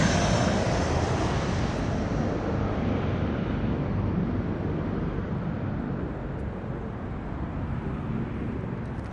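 A Southwest airliner taking off at Las Vegas airport, a broad roaring engine rumble that fades slowly as it pulls away, with wind noise and no talking.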